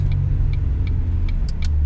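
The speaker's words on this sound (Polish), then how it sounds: "Dobra, wjeżdżamy do Chorzowa, parkuje samochód" Car driving into a parking spot in Chorzów, a steady close engine rumble inside the cabin with faint regular ticking, like an indicator, above it.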